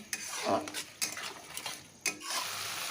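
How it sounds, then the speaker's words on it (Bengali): Spices and ground turmeric are stirred in a cooking pan, and a utensil scrapes and clinks against the metal in several quick, close strokes over a soft frying hiss. "হলুদটা দেওয়ার পরও বেশ ভালো করে একটু মিশিয়ে নিচ্ছি"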